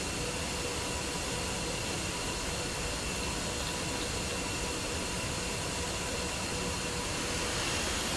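Jet engines spooling up for takeoff in the flight simulator DCS during a tournament match, a steady loud broadband roar with a faint whine that holds evenly throughout, no voices.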